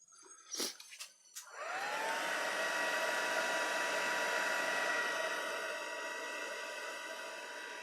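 An electric heat tool starts with a few clicks and handling sounds, then blows a steady, close airy roar for several seconds while setting E6000 glue on a handmade file folder journal.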